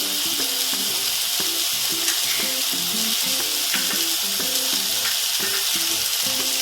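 An eggplant dish with coconut fries in a pan with a steady, bright sizzle, broken by repeated rhythmic scrapes of stirring throughout.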